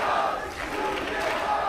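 Live studio crowd at an EU LCS Summer 2015 League of Legends match between Giants and Unicorns of Love, a steady dense roar of cheering and shouting that swells and holds throughout.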